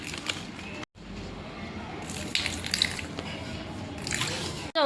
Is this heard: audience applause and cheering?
no